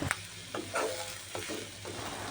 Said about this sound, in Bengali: এখন আমি এই ভাজা মাছগুলোকে নামিয়ে ওই তেলটার মধ্যেই পেঁয়াজ দিয়ে দিব আর সাথে দিব ফালি করে রাখা কাঁচামরিচ